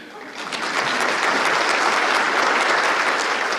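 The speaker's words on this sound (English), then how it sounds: "You can clap for that." An audience at a chamber of commerce annual banquet breaks into applause, a dense wash of clapping that swells within the first second and holds steady, loud and close.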